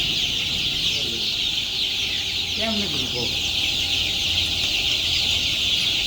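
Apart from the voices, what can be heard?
chickens clucking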